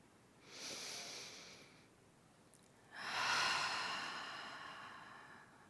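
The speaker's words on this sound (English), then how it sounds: "Deep breath here." Two long, deep breaths taken during a yoga flow, a slow inhale-like rush followed after a pause by a louder, fuller exhale, close and steady with no talking.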